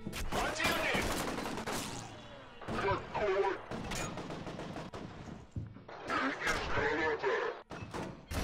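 Heavy gunfire in the shooter game F.E.A.R. Perseus Mandate, bursts of loud shots and thuds in uneven clusters with pauses, mixed with someone talking over the action.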